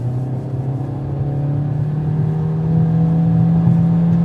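A 2016 Honda Civic Coupe with a CVT, driven in sport mode, revs steadily under acceleration through a corner. The engine drone holds a sustained, rising tone and grows slightly louder toward the end, with no talk over it.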